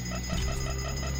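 Alarm going off in the video game BioShock, a steady repeating electronic beeping pulse over a low droning game background, loud and continuous with no talk.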